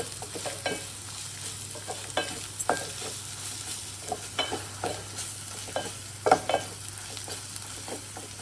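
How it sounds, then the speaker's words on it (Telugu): Whole spices frying in oil in a pan for Telugu-style bagara rice, a steady close sizzle with irregular scrapes and clinks of a spoon stirring, no voices. "ఫ్రై అయిందండి."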